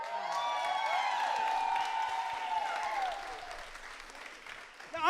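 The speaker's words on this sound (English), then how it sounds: "Give a round of applause for Brock" An audience in a meet-and-greet Q&A applauds for Brock: steady, sustained clapping with some cheering and whoops from a nearby crowd, fading toward the end.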